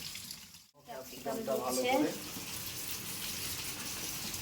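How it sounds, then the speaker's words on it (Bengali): Potatoes are washed under a running kitchen tap, a steady close rush of water that continues throughout, with a brief voice near the start. "এবার আলুটা ধুয়ে নিতে হবে, ভালো করে ধুয়ে জল ঝরিয়ে নিতে হবে।"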